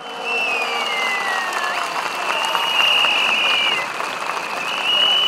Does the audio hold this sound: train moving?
no